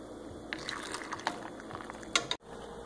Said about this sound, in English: I'm just going to fill this jar right up with brine